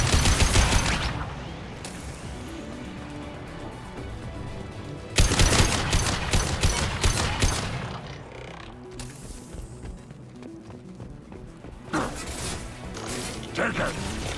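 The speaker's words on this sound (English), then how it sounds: "Incoming. I'm taking fire." Weapon fire in a Mass Effect Legendary Edition firefight, with bursts of rapid shots at the start, a loud burst around the middle and sharper cracks near the end, mixed with a voice and game sounds.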